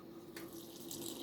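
A little water added to homemade lemonade from a kitchen tap, a faint soft hiss that grows into a brighter splashing stream after a brief quiet start.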